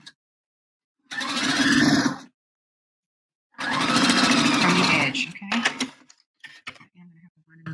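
Sewing machine stitching the center seam of a bra at a quarter inch, two close bursts of rapid motor-driven stitching separated by silence, followed by scattered small clicks and handling noises.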